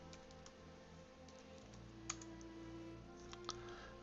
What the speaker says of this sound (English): you're going to type in the mask at the same time